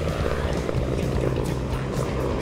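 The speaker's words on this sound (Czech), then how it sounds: "Tento okamžik můžete sledovat jak bitevník MI-24 pomáhá s likvidováním živé síly nepřítele" An Mi-24 attack helicopter flies during a NATO Days 2017 military display of an assault on an enemy position, giving a steady, loud rotor and engine drone that fills the whole moment without pause.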